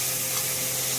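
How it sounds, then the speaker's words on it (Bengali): A fish head frying in a pan while a puri ghonto dish is being made, giving a steady, close hiss and sizzle that runs the whole time with no voices over it. "এখানে মাথা ভাজা হচ্ছে"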